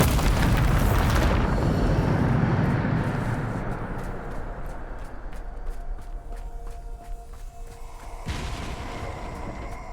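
A Bombarda spell detonates in the video game Hogwarts Legacy, a loud booming blast at the start that rolls off into a rumbling decay, followed by a second smaller burst near the end.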